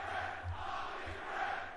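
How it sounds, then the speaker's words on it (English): A large crowd chants at a Call of Duty League 2023 esports arena match. The massed voices sound rhythmic and somewhat distant, rising and falling in a steady chant with no clear individual speech. "the crowd is chanting something I don't want to repeat right now"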